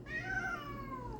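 House cats meow for more chicken while raw cat food is being prepared, a single drawn-out, faint meow over a low background hum.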